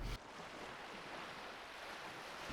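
Powerful ocean waves crash against big rocks on a wild Japanese coast, a dense, continuous roaring surf wash that is loud and steady, with wind noise and no talk.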